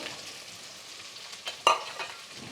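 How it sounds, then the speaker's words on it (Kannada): Onion frying and being stirred in a pan for egg bhurji, a steady soft sizzle with a brief scrape or clatter near the middle, close and alone without talk. "ಹಾಗೆ ನೋಡಿ ನಾನು ಒಂದು ಈರುಳ್ಳಿ ಹಾಕ್ತಾಯಿದ್ದೀನಿ"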